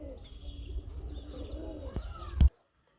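Pigeons coo softly over a low rumbling background at a caged pigeon sale, their murmuring calls overlapping before a sharp knock cuts everything to silence.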